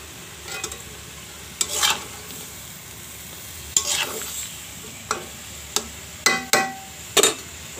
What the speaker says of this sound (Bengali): এই যে আমরা দিয়ে দিচ্ছি সবজি দিয়ে, একটু সুন্দর করে কষিয়ে নেব।